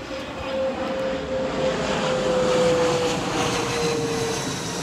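A single airplane drones overhead with a broad, rushing roar that swells slightly and then eases, with a faint steady whine, no other sounds.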